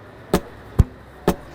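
An acoustic guitar body slapped as a percussion kit: a snare-like knock, then a deeper, boomier kick hit, then another snare knock, each single and close, evenly spaced with no voices.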